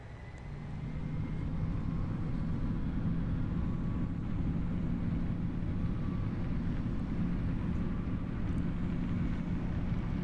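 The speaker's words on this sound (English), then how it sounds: "Wow, the takeoff is pretty loud." Loud, steady low roar of a video-game airplane taking off in Roblox, rising in over the first second and holding as a continuous engine rumble with no talk.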